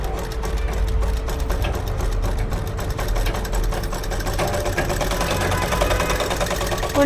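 A sewing machine stitches steadily and close up, its rapid needle chatter and motor hum running evenly throughout without pause.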